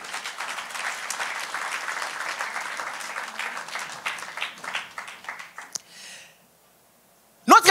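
Church congregation applauding and cheering during an online worship service, a dense sustained round of clapping that thins out and fades, followed by a pause and a brief loud burst at the end.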